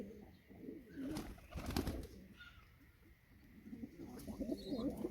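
Pigeons coo in low, throaty repeated calls against a steady outdoor background, with a brief burst of louder rustling in the middle.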